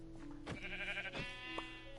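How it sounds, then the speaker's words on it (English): Sheep bleating in the Minecraft video game, a couple of short, nasal game-sound bleats over a steady background tone, clear and close with no talk. "Oh, sheep."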